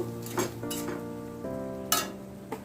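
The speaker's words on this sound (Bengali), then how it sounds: "এবার মশলাটা ভালো করে কষিয়ে নেব আলুর সাথে কষিয়ে নেব" Spice paste and potatoes are stirred in a pan for a pangas fish curry, a soft sizzle running underneath, with a few distinct metal clinks of a spatula against the pan.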